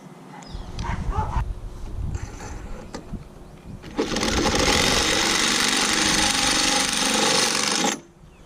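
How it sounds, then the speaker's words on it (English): A power drill bores out marked holes in a plastic Ride 115 kayak hull, a loud, steady high whine grinding for about four seconds after some quieter handling and clunks. "I'm just going to take a drill and kind of waller them out to about the size of these nuts"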